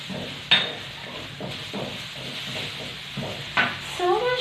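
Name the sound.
garlic, ginger and onions sautéing in a wok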